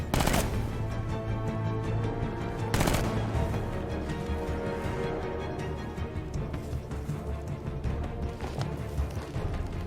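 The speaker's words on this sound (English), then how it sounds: "I'll shoot him down and see what happens" Rapid bursts of gunfire ring out in Batman Arkham Knight, loud dense volleys with sharp onsets and a couple of heavier blasts, no talking over them.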